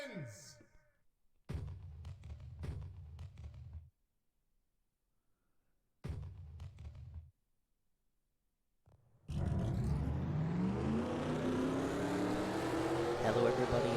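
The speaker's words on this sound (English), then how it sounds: "Drivers, start your engines!" Stock car engines firing up in NASCAR Racing 2003 at Michigan, after brief bursts of voice a loud engine roar kicks in and holds steady with rising revs to the end.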